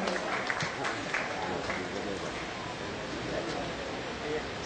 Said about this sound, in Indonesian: Tepuk tangan untuk Eyang Titik Puspa yang sudah hadir di tengah kita pada malam ini.